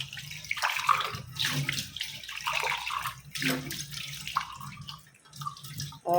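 A tea pot is washed with ash and soap under running water, with splashing, rubbing and clinking of the metal vessel close up, in uneven bursts without speech.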